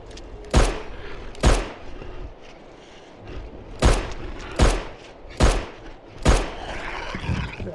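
Gunfire in the horror game Fobia: St. Dinfna Hotel: six sharp, loud shots spaced irregularly about a second apart, each a broadband crack with a low thump, over a quiet ambient game background.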